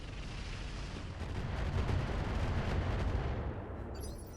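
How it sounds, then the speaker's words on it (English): Artillery barrage in the mech combat game RogueTech, a BattleTech mod, with a dense rumbling roar of distant shell impacts swelling and fading over several seconds, alone without voices. "I think we are going to drop artillery up over here."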